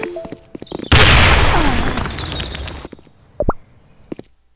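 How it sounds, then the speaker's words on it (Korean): A grenade explodes in a video game with a sudden loud boom, then a long fading rumble of debris, followed by a couple of sharp thumps and clicks. "수류탄 투척!"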